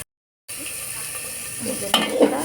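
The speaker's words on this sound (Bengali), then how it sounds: "এখন আমি কষিয়ে নিই" Small prawns sauté in a pan, a close, steady sizzle with stirring scrapes of a utensil in the pan, after a brief silent start.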